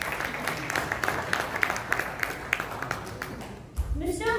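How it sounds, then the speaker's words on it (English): Audience at a panel discussion on skilling infrastructure in Jammu and Kashmir claps to welcome the panelists; moderate, fairly distant applause with some sharper individual claps, dying away as a voice begins speaking near the end. "Can you please welcome our panelists to the round of applause?"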